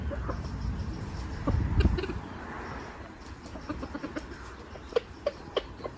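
Chickens clucking in a garden yard just after being let out of their coop, several birds calling in short scattered bursts at close range, with a few sharp louder clucks near the end.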